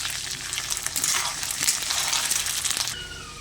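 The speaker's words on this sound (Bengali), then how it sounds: "আদা রসুন বাটাটা একটু ভালো করে ভেজে নেব" Ginger garlic paste fries in a pan for a Bengali fish curry with brinjal and potato, giving a loud, dense close sizzle with stirring scrapes that drops off sharply near the end.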